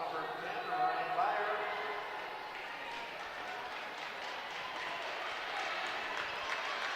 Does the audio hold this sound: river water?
no